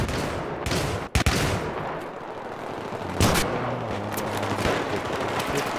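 Gunfire from a teammate in Battlefield 3 cracks out in a few sharp shots, one loud close report standing out, then scattered distant bursts over steady game background noise.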